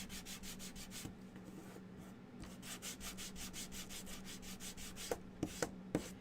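Sandpaper rubs back and forth on the wooden frame of a bunny DIY craft kit in a steady, rhythmic series of close, raspy strokes, ending with a few sharp taps.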